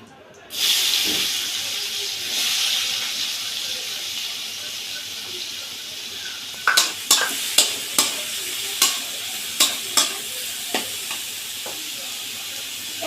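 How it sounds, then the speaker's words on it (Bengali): Bitter gourd frying in a pan as onion and potato go in: a loud burst of sizzle, then steady frying hiss with a run of sharp scraping stirs toward the end. "এটা ভাজা ভাজা হয়ে গেছে এবার আমি পেঁয়াজ আর আলুটা দিয়ে দেবো"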